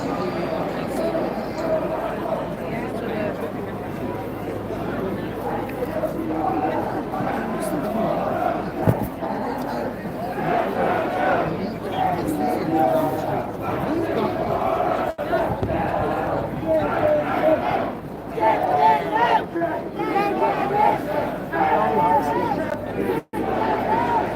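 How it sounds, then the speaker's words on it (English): A large protest crowd fills a rainy Dublin street with continuous murmuring chatter and occasional raised shouts, a dense, steady hubbub lasting throughout. "Really good crowd here today."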